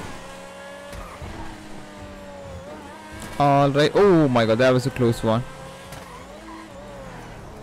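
Car driving in GTA 5 with a graphics mod, a steady engine drone throughout and a brief loud burst of squealing tires in the middle, while someone talks and exclaims over it.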